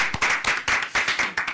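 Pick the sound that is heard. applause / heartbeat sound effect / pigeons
applause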